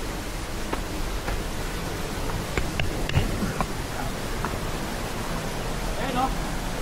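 Steady broadband rush of the large Malibik-libik waterfall in Cavite, a constant roar filling the whole clip with a few faint clicks and bumps over it, no clear speech.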